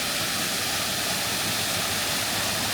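Bucktail Falls pours with a constant, loud, close roar of falling water, a broad unbroken rush that stays level throughout with no talking.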